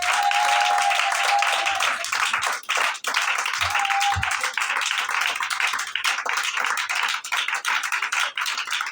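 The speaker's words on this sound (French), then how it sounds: "Acclame Jésus." Church congregation applauding at an enthronement service, a dense, steady wash of many hands clapping that continues throughout, with brief faint voices underneath.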